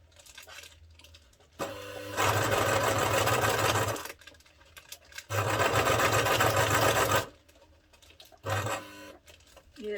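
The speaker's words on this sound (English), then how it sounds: "now you're going to sew like that" A sewing machine stitches concertina-style fabric bag tags in three bursts, the first two long and steady and the last short, with quiet handling pauses between runs.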